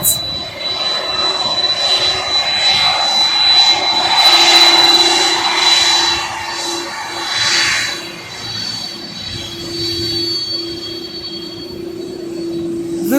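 A DHL Boeing 767-300ER jet airliner arrives at an airport with a loud, sustained engine roar that swells and then slowly eases, heard close with no talk.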